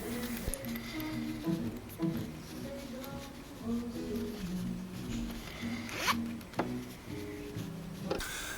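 A small zipper on a handmade sewn earbud case is pulled open and shut several times, producing close, crisp zipping runs with fabric rustle and handling noises in between.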